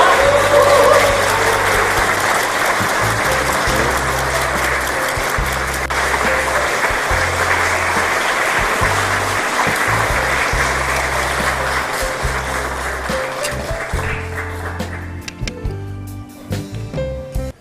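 A crowd at a Democratic Party lawmakers' general meeting applauds steadily as flowers are presented, a loud dense clapping that holds for most of the stretch before thinning out and fading near the end.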